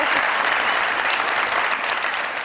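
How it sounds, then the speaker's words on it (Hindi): A studio audience at the Mazaaq Raat comedy talk show claps warmly to welcome guest Sadia Imam, a thick, continuous wash of applause holding steady and loud throughout. "बहुत सारी तालियों में वेलकम कीजिएगा मोहतरमा सादिया इमाम साहिबा जी।"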